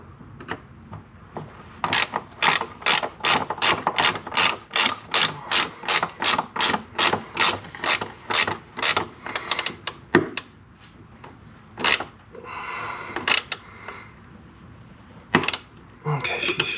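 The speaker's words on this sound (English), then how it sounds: "Now we're gonna try and tighten it down before I put the subframe back in place" A ratchet wrench tightens subframe bolts on a Mazda FC3S RX-7, giving a long run of evenly spaced, loud clicking strokes close by, then a pause and a few scattered clicks and mechanical knocks.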